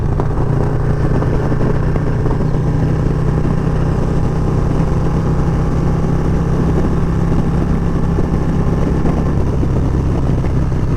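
Harley-Davidson Low Rider S (FXLRS) motorcycle on the move, a loud, steady, deep engine rumble with constant wind noise, unbroken for the whole stretch.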